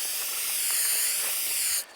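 A steady, loud hiss of aerosol spray runs continuously for almost two seconds, then cuts off abruptly near the end.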